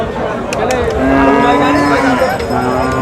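A bull at a cattle market in Nilphamari lets out a long, loud, close moo that swells in the middle and trails off, with faint market background around it and no talking.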